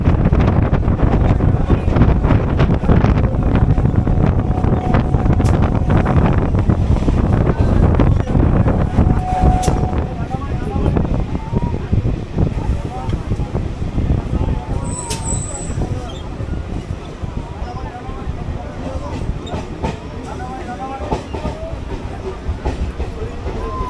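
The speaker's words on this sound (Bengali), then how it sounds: "ট্রেনটা সত্যি খুব জোরে চলছে, মানে খুবই জোরে" A Lalgola–Ranaghat local train runs fast toward a station, its steady rumbling rattle and wind roar loud and continuous throughout, with brief tonal squeals partway through and faint talk in the background.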